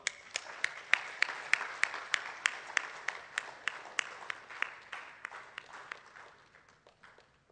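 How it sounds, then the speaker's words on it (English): Audience applause at an award ceremony as a guest comes on stage to receive a memento: steady, rhythmic clapping with crisp individual claps standing out, gradually thinning and fading toward the end. "The applause should go on."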